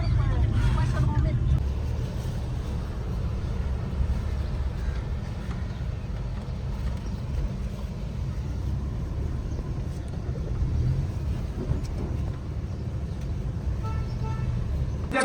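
A car driving with a steady low engine and road rumble throughout, close and continuous, with a slight swell near the start and again around the twelfth second.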